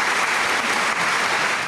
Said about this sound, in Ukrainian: Екстравагантного професора студенти проважають оплесками.